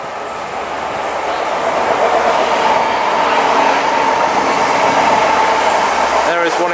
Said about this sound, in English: Next train passing is the Class 185,